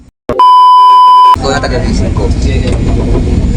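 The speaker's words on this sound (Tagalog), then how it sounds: "Kapag narinig na po ang warning buzzer, hudyat ito na magsasara na ang mga pintuan ng tren." A loud, steady electronic buzzer tone on a train warns that the doors are closing, sounding for about a second, then cuts off into rumbling vehicle noise and a voice over it.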